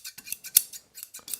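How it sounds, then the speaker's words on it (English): Freshly sharpened scissors close in a run of crisp metallic snips and scrapes, about eight short bursts at an uneven pace, close and fairly loud with no voices. "once you close the scissors,"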